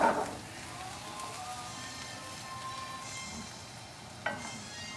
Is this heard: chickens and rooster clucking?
no